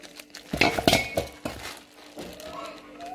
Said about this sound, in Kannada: ನಾನು ನೋಡ್ರಿ ಬೆಣ್ಣೆ ಕಾಯಿಸ್ಬೇಕಂತೇಳಿ ಬೆಣ್ಣೆ ತೆಗಿಯಾಕತ್ತೀವಿ ನೋಡ್ರಿ